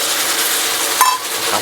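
Water poured into a hot, scorched pan in a kitchen while making homemade demi-glace sauce, producing a loud, steady broadband hiss and sizzle that fills the whole moment, with a brief sharper ping partway through.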